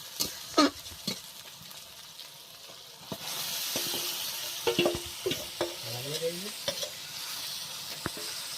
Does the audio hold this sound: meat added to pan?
yes